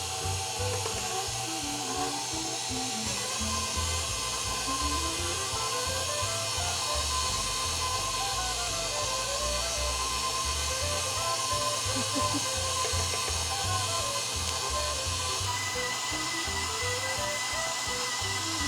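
A stand mixer with a dough hook kneads enriched cardamom bun dough, giving a steady, loud motor whir with a rhythmic low thumping throughout.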